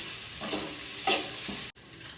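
Ginger and garlic frying in a pan for paneer butter masala, a steady sizzle with a few stirring scrapes, cut off briefly before the hiss resumes.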